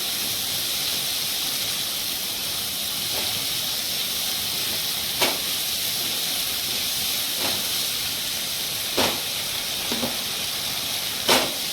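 Boal fish curry with turmeric frying in a pan, giving a steady broadband sizzle and hiss with a few sharp clinks of a utensil stirring against the pot.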